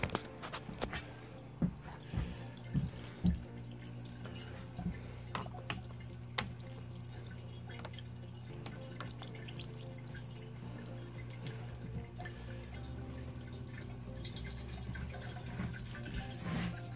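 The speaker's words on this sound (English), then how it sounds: "let me turn the water on here and see what happens" Flood coolant water runs on a small mini milling machine inside its enclosure, scattered drips and splashes over a steady low motor hum, with sharper splatters early on.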